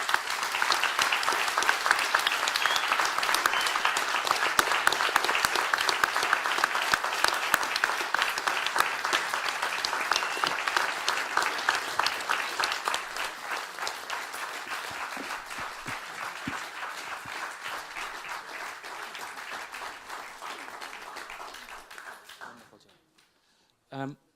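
A conference audience applauds a panel after an assembly conversation, loud dense clapping that slowly thins and fades over about twenty seconds before stopping, with a brief sound at the very end.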